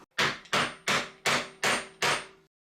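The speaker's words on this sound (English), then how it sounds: "I used a length of softwood and put the pipe on the bench and hit it fairly gently with a hammer." A hammer strikes a bent pipe fairly gently through a length of softwood on a workbench, part of a Stuart No. 4 steam engine renovation: six evenly spaced, close, solid knocks, each with a short ringing decay, then silence.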